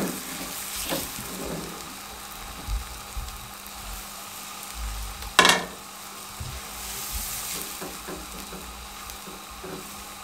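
Aloo paratha sizzles steadily on a hot pan, a constant close frying hiss with soft crackles and one brief louder scrape or pop midway.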